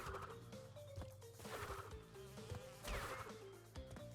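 Bees buzz in Crash Bandicoot 2, a steady insect drone mixed with the game's busy music and sound effects, swelling at moments alongside sharp hits.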